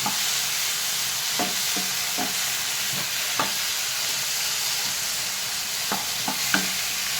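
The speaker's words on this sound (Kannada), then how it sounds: "ಚೆನ್ನಾಗಿ ಹುರಿಯಿರಿ." Onion and tomato frying in a pan for a spicy chutney, a constant close sizzle and hiss of oil with scattered soft scrapes and taps of a stirring spoon, no voices.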